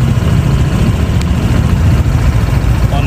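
A Honda ADV 160 motorcycle engine idles steadily up close, a continuous low rumble with no revving throughout.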